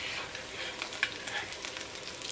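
Rice vadas sizzle steadily in hot oil until golden, a continuous close bubbling hiss broken by a few small crackles and pops, with no voices.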